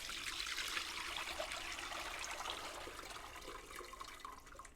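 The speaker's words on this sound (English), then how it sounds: "So what we want to do is just pour into this sieve." Liquid ceramic glaze is poured through a sieve into a bucket, giving a steady close trickling, splashing pour that runs continuously and eases off slightly toward the end.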